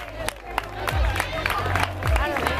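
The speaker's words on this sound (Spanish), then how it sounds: "¡Fuerte el aplauso!" Crowd applause and cheering at a school cross-country race award ceremony in Tomares, steady clapping mixed with loud voices and shouts throughout.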